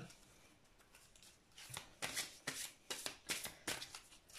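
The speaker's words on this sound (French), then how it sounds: "Alors, je vais tirer une carte." Oracle cards being shuffled and drawn by hand, a soft run of crisp riffling bursts that grow denser and louder toward the end, quiet and close with no voices.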